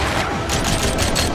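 A rapid volley of dual pistol shots from the roller-skating action game Rollerdrome, sharp bursts repeating quickly in a dense rattle, loud and continuous.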